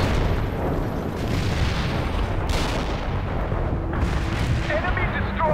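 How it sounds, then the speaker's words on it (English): Mortar fire in the war strategy game World in Conflict, a heavy rumbling barrage of booms and blasts that rolls on continuously and loudly, with voices speaking over it. "Zulu Niner firing mortars at the target"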